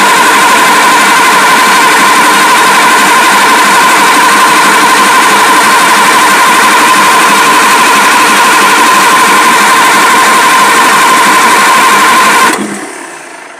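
A Scania LK 141 V8 truck engine, idle for about six months, cranks and runs with a loud, steady, rough drone close to the microphone, then cuts off abruptly near the end.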